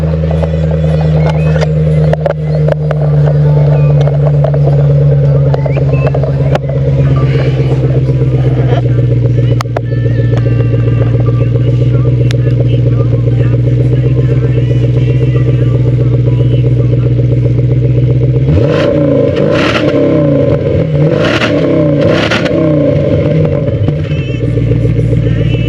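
A Jaguar S-Type R 4.2 supercharged engine idles loudly and steadily up close, then is revved in several sharp bursts near the end.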